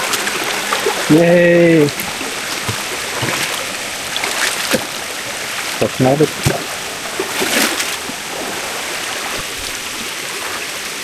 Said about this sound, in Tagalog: Makapaghugas na ulit ng paa.